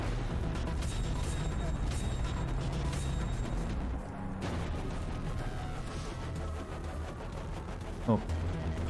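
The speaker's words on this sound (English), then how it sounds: "Super satisfying gunshot sound." Gunfire in the video game Far Cry 3 forms a dense, continuous barrage of shots and blasts, loud and close, with a brief dip midway and a sharp burst near the end.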